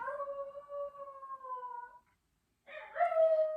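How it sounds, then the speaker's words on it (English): A dog howls in long, wavering tones for about two seconds, pauses briefly, then starts a louder, higher howl. Close by, indoors, with no talking. "That's my dog howling"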